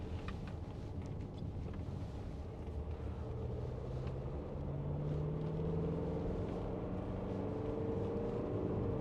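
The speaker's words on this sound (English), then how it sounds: "Engine sounds really good." A 2017 Mercedes-Benz GLC220d AMG Line 4MATIC diesel with a G-Tronic automatic pulls through the gears on the road, its engine note rising and steady under continuous road and wind rumble, with no voices.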